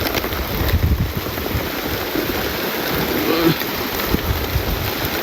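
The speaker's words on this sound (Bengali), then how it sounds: "এখনো বৃষ্টি হইলো" Steady rain falls outdoors while the sun is still shining, a dense continuous wash of noise close by with no breaks.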